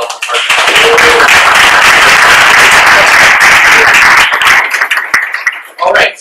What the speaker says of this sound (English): So have a round of applause for all of our partners